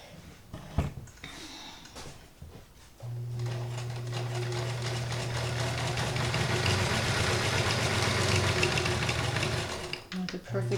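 Vintage Kenmore 158.19311 sewing machine running steadily at its longest stitch setting, a droning motor hum with rapid needle clatter lasting several seconds. Brief handling noises come before and after it.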